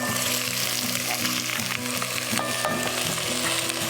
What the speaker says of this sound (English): I add in some of the beef. Now the key is not to add it all in, because I want to brown the beef on the bottom